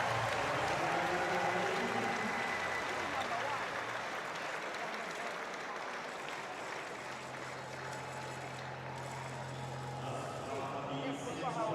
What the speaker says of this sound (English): a big cheer for Kumar as he approaches the line and finishes